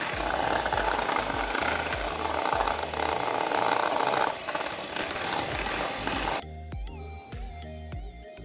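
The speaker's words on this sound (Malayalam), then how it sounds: "ഞാനിപ്പം യൂസ് ചെയ്യുന്നത് ബീറ്ററാണ്. മുട്ട നന്നായിട്ട് തന്നെ മിക്സ് ചെയ്തെടുക്കാം." An electric beater whirs steadily while whisking eggs for a red velvet sponge cake, a dense close motor buzz that drops away near the end, leaving sparse clinks and rattles.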